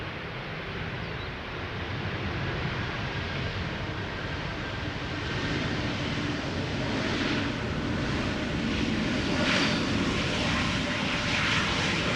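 KLM Cargo Boeing 747 freighter operated by Martinair Holland at Schiphol Airport, a loud, steady four-engine roar that builds slightly and holds for the whole stretch, with no voices.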